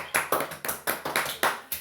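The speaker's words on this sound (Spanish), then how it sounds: "Nos vamos a dar un aplauso, muchachos." A single pair of hands claps about eight times at a steady, moderate pace, sharp and close.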